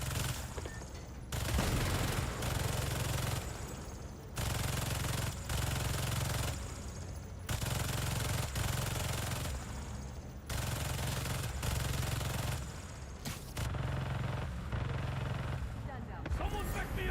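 Turrets firing machine guns in the video game Marvel's Spider-Man 2, loud sustained bursts of rapid gunfire in long stretches separated by brief gaps, with game effects layered underneath.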